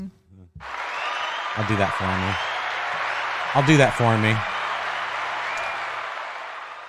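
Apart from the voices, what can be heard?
applause clapping sound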